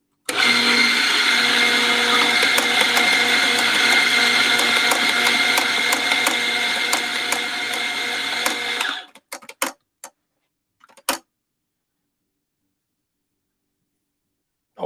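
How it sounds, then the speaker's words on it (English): A coffee grinder grinds espresso beans in a loud, steady whir for about nine seconds, then stops, followed by a few scattered taps and knocks and silence. "We're going to grind some more coffee."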